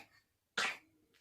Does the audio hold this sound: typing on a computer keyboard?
no